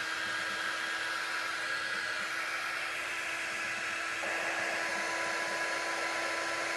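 A hair dryer blows steadily at close range to dry a Christmas craft, a loud continuous rushing whine that shifts slightly in pitch partway through, with no voices.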